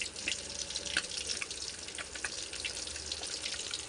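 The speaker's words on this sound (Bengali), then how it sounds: "আর এই মাছ ভাজা চলছে।" Pieces of a large silver carp fry in a pan with a steady, soft, even sizzle that fills the whole stretch, with no talking.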